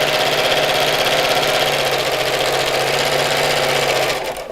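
A sewing machine stitches steadily around the edge of a Christmas fabric bag, making a loud, rapid, even whirr that slows and stops at the very end.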